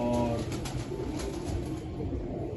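Pigeons of the Sargodha line coo softly on a rooftop loft, a low, steady murmur of cooing birds mixed with a faint background hum and no talk.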